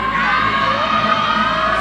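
Cheering squad at a Khon Kaen pageant final shouting and whooping together for a contestant, a loud, dense crowd roar that holds steady with no talk over it.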